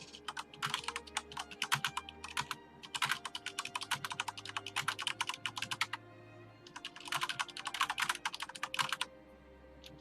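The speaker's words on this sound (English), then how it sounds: "It's a mechanical keyboard" Rapid clacking of a mechanical keyboard in a room, typed in quick bursts separated by short pauses, close and crisp with a faint low hum behind it and no talking.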